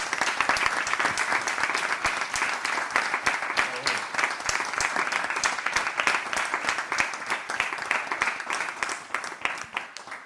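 An audience at a presentation of rural women artists in Conca de Barberà breaks into strong, sustained applause, dense rapid clapping close and loud for the whole stretch, with a few faint voices mixed in.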